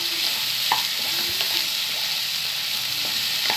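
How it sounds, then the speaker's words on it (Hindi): Liver and kidney (kaleji and gurda) fry in oil over a high flame, a constant close sizzle broken by occasional scrapes and taps of a stirring utensil against the pan. "इसको तेज फ्लेम पे अच्छा फ्राई कर"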